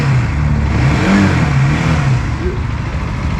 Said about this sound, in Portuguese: A gente ouviu o barulhinho do motor.